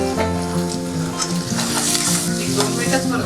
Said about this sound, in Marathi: थोडी परतून थोडंसं मीठ घालूया म्हणजे सिमला मिरची शिजवायला पटकन शिजेल.